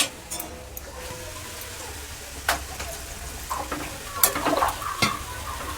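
Prawn and banana curry sizzles steadily in a pan as water goes in. A spoon scrapes and clinks now and then over the constant frying hiss.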